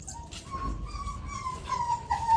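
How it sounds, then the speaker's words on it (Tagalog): Dogs whimper softly in thin, high whines as they are let indoors at a cat sanctuary during a Christmas party, fairly close with a faint low rumble beneath and no talking. "Ay, papasukin ng mga aso."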